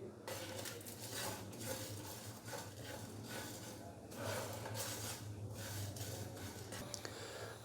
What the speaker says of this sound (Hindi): इन दोनों को हम हल्का सा ड्राई रोस्ट करेंगे